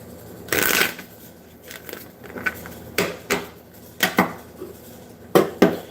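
Crisp riffling bursts of tarot cards being shuffled, several quick ruffles and taps spaced apart, close and fairly loud with no talking.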